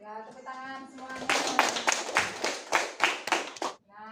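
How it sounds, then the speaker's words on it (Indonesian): Primary school children clap together in a classroom after a song about Indonesian independence: a short run of loud, fairly rhythmic claps, framed by someone speaking just before and just after. "Ya, tepuk tangan semuanya."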